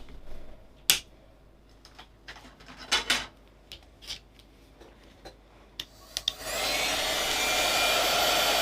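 A heat tool drying wet paint on a papercraft project switches on after several light taps and clicks, then blows a steady, broad whoosh of air that holds to the end.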